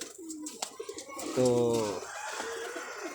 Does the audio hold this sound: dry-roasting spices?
no